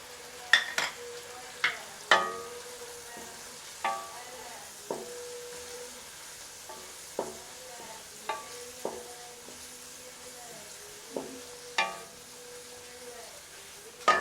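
Tomatoes and onions frying with spices in a pan, heard as a soft steady sizzle broken by a regular series of sharp scraping stir strokes, fairly quiet and without talk.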